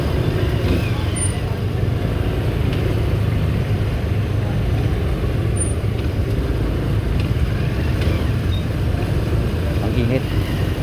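Road traffic in Bagumbong, North Caloocan, with a constant rumble of cars and buses nearby, a few faint higher tones from passing vehicles, and a voice talking over the noise.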